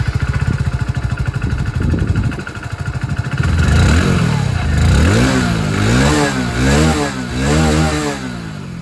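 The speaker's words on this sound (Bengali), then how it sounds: "এক্সস্ট সাউন্ডটা আপনারা শুনে নিন।" A 2026 Hero Passion Plus Disc 100cc motorcycle exhausts at close range, starting with a rapid putter at idle, then revving up and down in repeated rising and falling surges.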